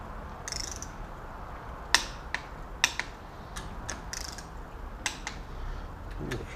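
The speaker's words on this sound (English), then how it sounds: "And again, torque to 40 foot-pounds." Torque wrench tightening bolts on a BMW M10 engine bottom end, with a handful of sharp metallic clicks spaced irregularly against a quiet workshop background.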